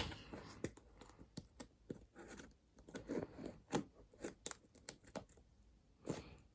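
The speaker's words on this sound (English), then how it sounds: "there's tape here, so I'm going to cut through that, and carefully since I'm using scissors" Scissors snip and slice through packaging tape on a parcel in a series of short, sharp, uneven crunches and rasps, quiet and close with gaps between cuts.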